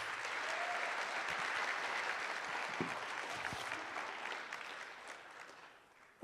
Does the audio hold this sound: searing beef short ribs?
no